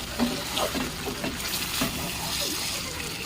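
Water goes into well-fried chicken curry masala in a pan, bringing a steady bubbling sizzle with wet stirring scrapes, heard close and continuous.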